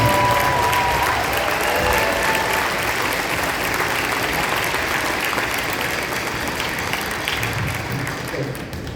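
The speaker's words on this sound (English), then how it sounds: "One big round of applause for the 7th and 8th grade" Sustained audience applause for a 7th and 8th grade school band at a concert, a dense steady wash of many hands clapping that holds loud throughout, tapering only slightly at the end.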